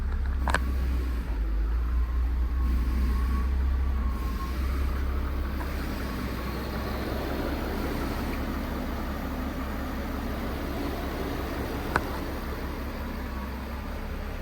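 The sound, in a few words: VW Phaeton W12 engine running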